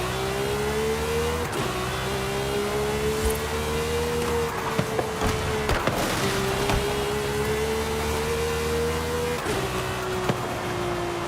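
An Audi R8 engine in a racing video game holds a steady, loud drone with rising pitch, broken by quick gear shifts around every few seconds and a brief dip midway.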